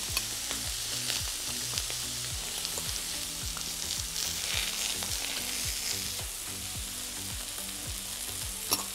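Scallops and oysters topped with butter sizzle steadily on a brazier plancha, a loud, continuous frying crackle with occasional scraping clicks, close up and without voices.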